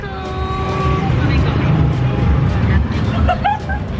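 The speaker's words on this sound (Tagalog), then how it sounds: "We're in a tricycle." A motorized tricycle rides through busy traffic, with a steady engine rumble and road noise throughout and some faint talk over it.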